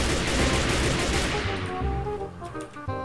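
Gunfire from a gun in a Minecraft survival game on a zombie-filled island, a dense rapid burst of shots that cuts off halfway, leaving fainter game sounds afterward.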